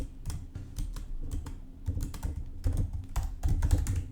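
Quick bursts of keystrokes on a computer keyboard while coding in HTML and CSS, irregular clicky taps close to the mic over a low background hum, with no talk.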